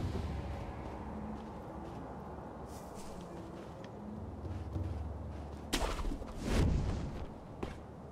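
Muffled booms and cracks of cannon fire in the game Sekiro: Shadows Die Twice, sporadic and mostly distant, with a louder blast near the end.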